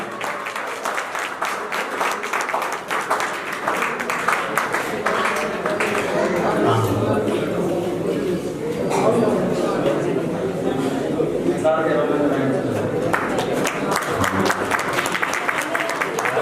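Applause from an audience at a district-level Koli community conference, a steady wash of clapping that carries through the whole stretch, with someone speaking loudly over it through a PA.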